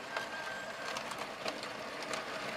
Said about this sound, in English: Oh, she goes with the parcels train.